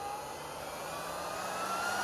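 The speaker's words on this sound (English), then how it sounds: "it's a little vacuum cleaner for computers. Sounds like a jet engine starting up." A small battery-powered computer vacuum cleaner whirs up like a jet engine, a steady high-pitched whine that rises gradually and runs alone without talk.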